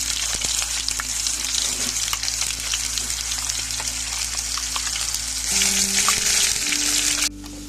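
Ginger, garlic and onion paste sizzles and fries in hot oil with bay leaves, a steady loud crackle with stirring scrapes, swelling briefly near the end before dropping off.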